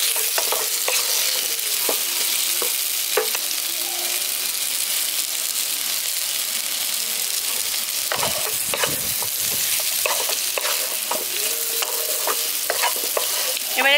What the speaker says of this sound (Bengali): আলু আর কুমড়োটা দিয়ে মশলাটার সঙ্গে ভালো করে কষিয়ে নিয়েছি।